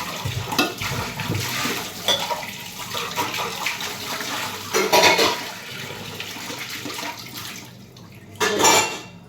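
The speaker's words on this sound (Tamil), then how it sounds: "நான் பாத்திரம் கழுவிட்டு உங்களை பார்க்குறேன்" Dishes and pots clatter and scrape under running water, an ongoing close washing-up with occasional louder knocks and splashes.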